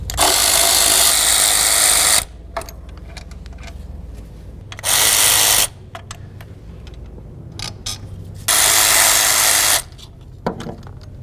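A power tool whirs loudly in three long bursts, removing the three thermostat housing mounting bolts on a 2007-2017 Jeep Compass, separated by pauses filled with small metallic clicks and rattles of bolts being handled.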